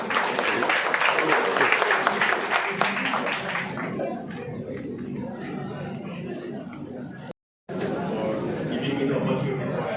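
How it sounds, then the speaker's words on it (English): A student audience at a college HR conclave claps loudly for a department head for about four seconds. The clapping fades into murmured chatter and a voice talking in the room. "can I get a good round of applause for Shamrat sir?"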